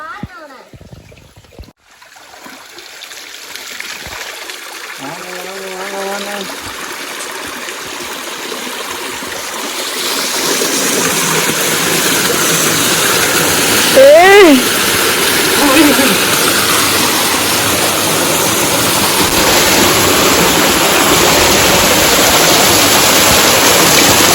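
Water rushes strongly after being dammed, a broad hiss that builds and grows louder, with a few brief voices in the first half.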